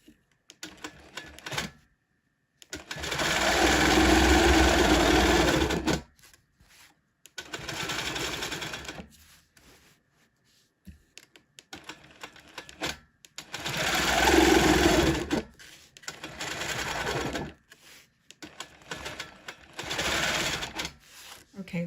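A sewing machine quilts along a ruler, stitching in the ditch over a previously stitched line: several loud, steady runs of rapid needle hum separated by short pauses, close and dominant.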